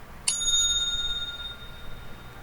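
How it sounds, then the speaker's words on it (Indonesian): One bright ring of a small hand bell, like a bicycle bell, struck once to mark time in a debate, with a clear attack and a long ringing tail fading into quiet room noise. "TK membunyikan bel sebanyak 1 kali"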